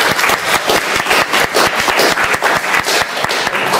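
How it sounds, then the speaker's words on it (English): An audience gives a round of applause at a talk event on young people and education, with loud, close, dense clapping throughout and no speech. "Give me a round of applause."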